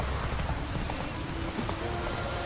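Horse hooves gallop at a quick, even clip-clop rhythm in The Witcher 3, close and steady for a couple of seconds under a dense game ambience, with no speech.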